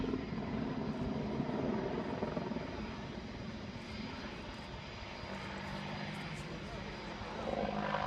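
A 10-ton helicopter manoeuvres at the Farnborough Airshow flying display, a loud, steady rotor and engine roar that stays broad and constant with a slight swell near the end, with commentary speech running over it.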